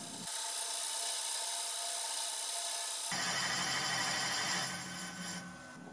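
Valve seats in an engine block being cut with a seat-cutting tool, heard as a steady close rasping, grinding rub that continues for several seconds and turns brighter and harsher partway through.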